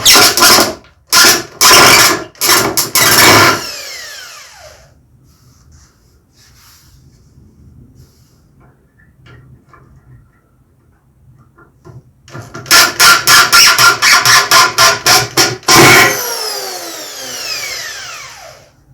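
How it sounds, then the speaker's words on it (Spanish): A power screwdriver drives a screw into a wooden drawer unit, loud ratcheting bursts up close at the start, a quiet gap, then another long stuttering run of clicking before it stops. "Y allá le pongo el primer tornillo para asegurarlo."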